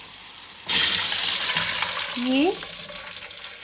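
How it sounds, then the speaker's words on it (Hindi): Water poured into a hot pan of jeera rice with onions, a sudden loud rushing splash and sizzle that runs steadily for nearly two seconds, with a brief word spoken over it. "3 कप पानी डाल दूंगी।"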